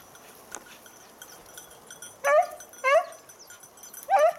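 Beagle hunting dogs during a hunt give three short, fairly loud yelping barks and whimpers at intervals, heard outdoors against a quiet background.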